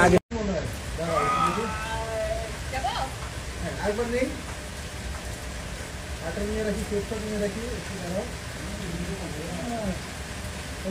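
Steady rain hisses throughout an outdoor drama shoot while people talk over it in the foreground.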